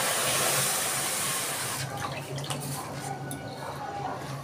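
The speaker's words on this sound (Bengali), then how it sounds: "এবার দিচ্ছি যে বাটিতে আমি সুজি নিয়েছি সেই বাটিতে 2 বাটি দুধ" Two bowls of milk pour into a bowl of semolina, a continuous rushing, splashing liquid sound that starts strong and softens into irregular trickling drips over a few seconds.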